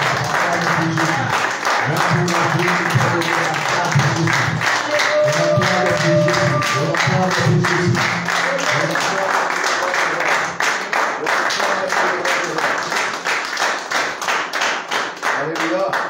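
A church congregation claps in fast, steady unison rhythm in praise of Jesus, loud and sustained throughout, with voices singing or shouting underneath the clapping.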